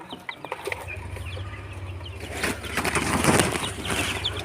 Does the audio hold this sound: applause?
no